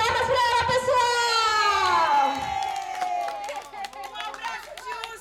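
A family crowd cheers and claps for a mother on Mother's Day, with excited voices and children's shouts rising together near the mic in a steady, lively burst.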